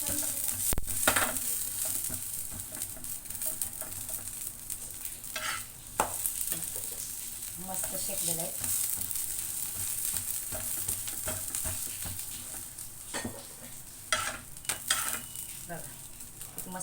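Aloo paratha fries on a pan over low gas, a continuous crackling sizzle broken by repeated pressing and scraping sounds.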